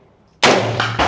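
Gunshot at an outdoor shooting range in Texas: after near silence, a sudden loud, close blast erupts and rolls on with a booming tail, with a couple of further sharp reports close behind.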